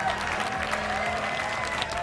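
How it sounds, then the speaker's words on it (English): An audience at the E3 2012 video game show breaks into loud, sustained applause, a dense wash of clapping from a large crowd that holds steady throughout. "Big round of applause for Dan here."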